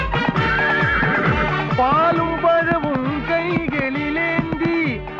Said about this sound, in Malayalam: കുതിര, കുതിര.